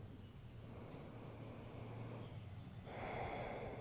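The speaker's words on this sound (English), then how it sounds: "Let's take 3 deep breaths in our child's pose" Someone takes slow, deep breaths while resting in child's pose during a gentle yoga flow. The breathing is soft and close, with a fuller exhale near the end.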